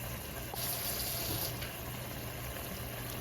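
Water runs into an empty tomato can in a kitchen while soup with shell pasta and beef is being made, a steady hissing pour with a faint rattle partway through.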